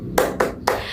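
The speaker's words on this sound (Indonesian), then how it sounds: "Ayo kita tepuk semangat sekali lagi." Three sharp, rhythmic group claps ring out one after another as a class of pupils performs the 'tepuk semangat' spirit clap, each crisp burst followed by a brief decay.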